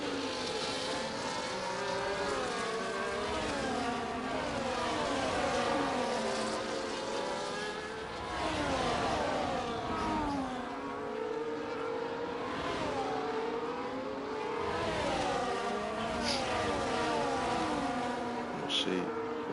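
Several racing cars in a video game race at Imola stream past together uphill, their engines droning and shifting pitch in overlapping layers throughout, loud and continuous, with a commentator talking over them.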